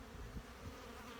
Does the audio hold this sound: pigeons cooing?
no